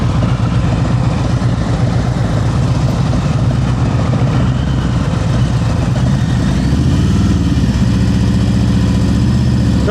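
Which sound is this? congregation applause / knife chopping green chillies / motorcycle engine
motorcycle engine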